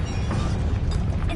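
Bombarda explosion spell cast in the video game Hogwarts Legacy, a loud, dense rumbling blast with heavy low-end boom and crackling debris, short and continuous.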